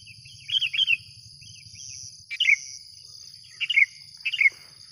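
Sooty-headed bulbul calls ring out in short bright bursts, a few repeated phrases at moderate distance, over a steady high insect drone and low rumble.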